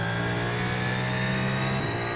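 A hypercar engine holds a high, steady whining rev in a racing video game at Belle Isle, constant and loud across the clip with a slight pitch shift near the end.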